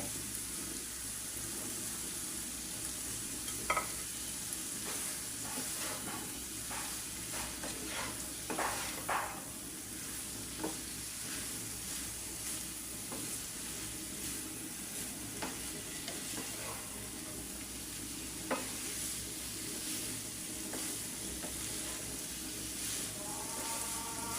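Potato pieces fry in an egg and onion masala while a utensil stirs and scrapes the pan, a continuous sizzle broken by irregular scraping clicks over about twenty-four seconds.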